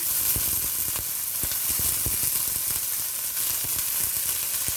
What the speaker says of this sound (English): So I'm putting in my onions right now, just lowering the smoke